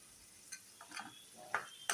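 Fried peas in oil for poha being stirred in a pan, with a faint sizzle under a few soft scraping strokes and sharp spoon taps against the metal, quiet and close.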